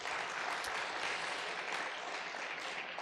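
Steady audience applause fills a conference hall at an energy-transition event on renewable power, a dense continuous patter of many hands held at an even level for the full few seconds, with no voices over it.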